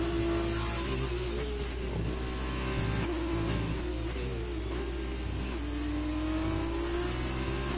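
F2 race cars lapping Suzuka in an F1 video game, engines revving and shifting as they round the hairpin, a continuous loud whine with pitch rising and falling through gear changes.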